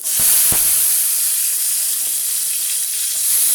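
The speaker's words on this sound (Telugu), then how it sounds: "కొంచెం ఆవాలు కొంచెం శనగపప్పు కొంచెం మినపప్పు తాలింపు కొంచెం వేగి ఎర్రగా వచ్చాక ఉల్లిపాయలు" Mustard seeds, cumin, chana dal and urad dal crackle in hot tempering oil for a yellow cucumber curry. A loud, bright hiss opens with a few sharp pops and then settles into a steady sizzle with no talking.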